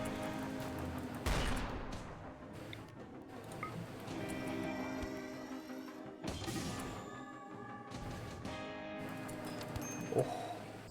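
Gunfire rings out in a shooting video game, with several sharp loud bursts and crashes separated by ringing, tonal in-game sounds, close and prominent with no talk.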